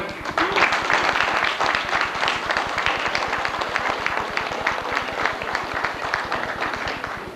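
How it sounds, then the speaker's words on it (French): A seated audience at a tenth-anniversary celebration of a women's fraternal lodge applauds steadily, many hands clapping in a brisk, even rhythm at moderate loudness with faint voices mixed in. "Je pense que ça vaut une bonne main d'applaudissements."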